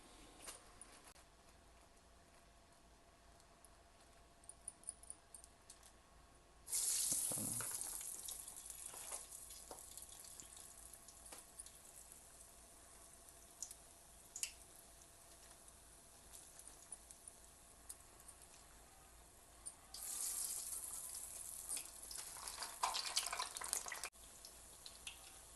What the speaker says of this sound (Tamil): எண்ணெய் சூடாகிடுச்சு. நம்ம இப்போ வடையை போட்டுடலாம்.